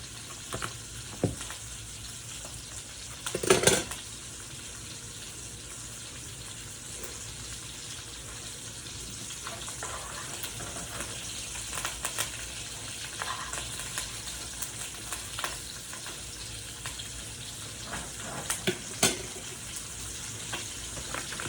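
Food sizzles softly in butter in a large pan, a steady low crackle that runs throughout, with a few louder clatters of utensils along the way.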